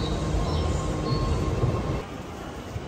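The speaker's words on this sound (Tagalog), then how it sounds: "Yan, pata na kami sa tren, pauwi na." Inside a moving passenger train in Japan, a steady low rumble of wheels and carriage noise fills the space, with a faint high squeal, then eases slightly toward the end.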